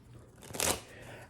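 A new deck of playing cards is dribbled from hand to hand in one short, soft riffling flutter that swells and fades within a second. It sounds faint and close, with no talk.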